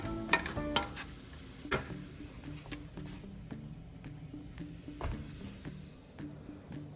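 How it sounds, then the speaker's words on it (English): Almond cauliflower rice cooks in a pan: a soft sizzle under irregular clinks and scrapes of a utensil stirring against the pan, close and fairly quiet, with no talking. "I'm also cooking the almond cauliflower rice."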